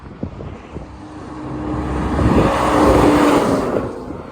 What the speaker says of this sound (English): Alright, we got a Freightliner and a Navistar.